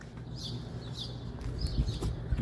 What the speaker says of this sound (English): Listen to those birds chirping.